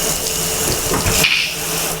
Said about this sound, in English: turn the water on, and we're gonna find out how big the leaks are